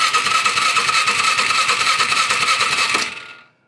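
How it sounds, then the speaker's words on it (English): A 2007 Polaris Sportsman 450 ATV engine runs loudly at a steady rumble close by, then cuts off and fades to silence. "My God, that's a noisy engine."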